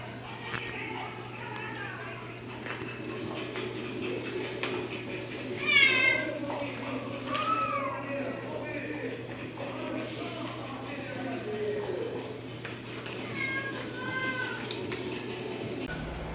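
Several cats meow intermittently, with short rising and falling cries scattered across the stretch, one louder meow standing out midway, over a low steady background hum and faint indistinct talk.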